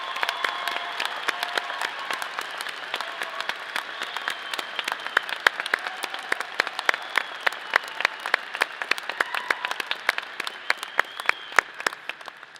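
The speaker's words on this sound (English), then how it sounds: "we applaud your success" A crowd applauds first-generation graduates at a College of Agricultural Sciences commencement ceremony, continuous dense clapping with sharp individual claps standing out, sustained for over twelve seconds with light cheering.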